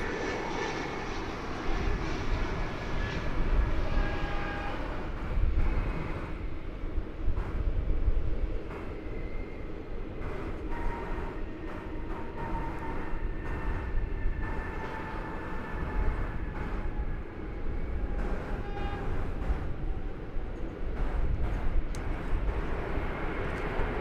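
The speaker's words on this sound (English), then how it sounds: "Here comes that flight from Houston Hobby, of which we spoke." Airliner arriving from Houston Hobby at DFW Airport, a continuous broad engine roar holding steady and fairly loud throughout, with faint whining tones drifting over the rumble.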